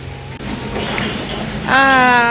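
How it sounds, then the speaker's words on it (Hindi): Heavy rain falling on a morning while the sun shines, a steady wash of drops and splashing with a rising stream-like trickle near the end, close and fairly loud. "संगे संगे ती झमझमावत पानी गिरत हावे"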